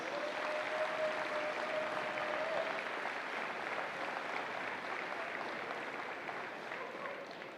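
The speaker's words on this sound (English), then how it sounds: "give them all a massive round of applause, please." A steady wash of audience applause at the World Wallball finals fills the whole stretch, dense and even, easing off slightly toward the end.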